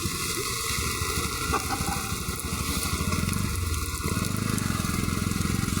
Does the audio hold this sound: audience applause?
no